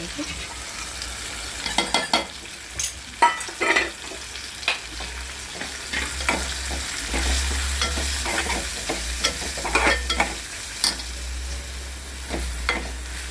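Ghati masala frying in hot oil in a pan for kaleji masala, with tomato already cooked in. A steady close sizzle runs throughout, broken by repeated scraping stirs and occasional utensil knocks.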